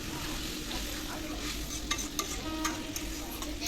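Frying mushroom masala in a pan, a soft, low-level sizzle with a few light clinks and stirring scrapes near the end and no talking, while spice-washing water is poured in.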